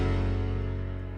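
Layered Nexus grand piano and Korg M1 house piano with the mids cut and highs lifted, holding a sustained chord that fades slowly across the clip, played alone and fairly loud.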